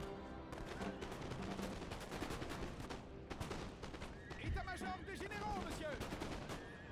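Musket volleys crackle in the video game Napoleon Total War during an Egypt campaign battle against camel warriors, a dense rattling fusillade of overlapping shots, fairly faint, with horse noises mixed in.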